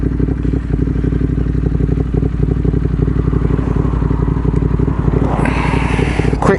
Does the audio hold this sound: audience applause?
no